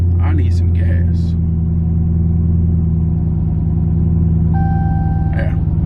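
A Dodge Hellcat fitted with an AAD drag pack runs with a loud, deep, steady engine rumble that holds throughout. A voice speaks briefly over it.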